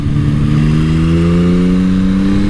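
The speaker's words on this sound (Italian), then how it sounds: "Mamma mia, sto motore quanto è figo." A 2024 Yamaha MT-09 SP motorcycle engine pulls hard and loud, its deep steady drone rising smoothly in pitch as it accelerates, heard close up with no talking.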